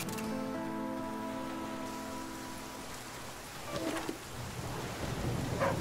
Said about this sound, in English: Okay, it started raining again.